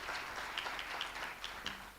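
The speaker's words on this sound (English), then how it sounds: "let's give them a round of applause" Conference audience applauding at a forum in Nairobi, a steady wash of many hands clapping with scattered sharper claps standing out, moderately loud and continuous for the whole stretch.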